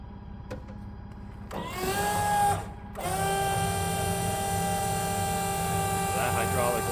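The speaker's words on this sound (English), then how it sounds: "That hydraulic oil does not sound happy." Hydraulic equipment in a workshop whines steadily with strained, siren-like tones, broken by a short louder surge and a pause before the whine resumes and holds.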